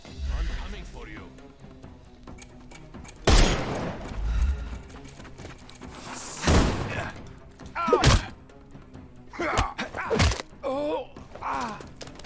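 Gunshots in the Sherlock Holmes Chapter One video game, several loud bursts spread across the clip amid game sounds, with voices talking between and over them.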